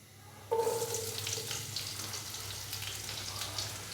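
Finely chopped onions drop into hot oil and start sizzling abruptly, a loud crackling frying hiss with scattered pops that eases slightly but continues to the end, with no talking.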